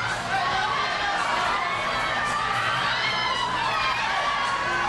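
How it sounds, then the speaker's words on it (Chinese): Fans screaming and shouting without letup as Lady Gaga appears in Taiwan, a dense, loud crowd of high-pitched cheers and chatter with no break. "女神果然魅力非凡，一出现现场尖叫声就不曾间断"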